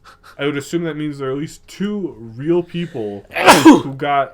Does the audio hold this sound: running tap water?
no